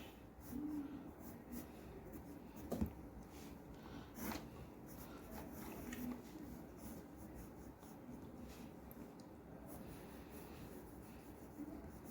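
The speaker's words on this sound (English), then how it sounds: "So now I'm drawing some like rough sketch" Soft, continuous scratching of a pencil on paper while a rough sketch is drawn, close and quiet with a few faint taps and rustles.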